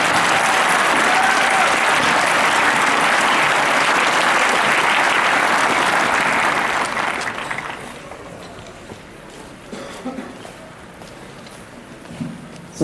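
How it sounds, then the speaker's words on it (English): A graduation crowd at the UVa Economics Department ceremony breaks into loud, dense applause that holds for several seconds, then fades to scattered claps and room noise. "Let's give them all a big round of applause."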